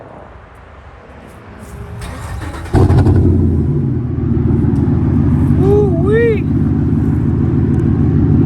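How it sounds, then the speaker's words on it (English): Chevrolet Silverado pickup with a 6.2 V8 and aftermarket Borla exhaust, outdoors on a cold day, starts with a loud burst and then settles into a deep, steady close rumble, with a brief vocal whoop over it. "let's hear this Borla exhaust."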